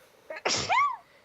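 A single sneeze, close and distinct, with a short sharp burst followed by a brief voiced tail.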